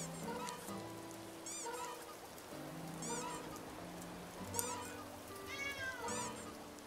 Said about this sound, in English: So many cats!